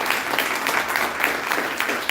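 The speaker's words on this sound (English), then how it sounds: "Give them a big round of applause." A short burst of audience applause for panelists at the Mythri '22 event, dense hand clapping from a large crowd, steady and loud throughout.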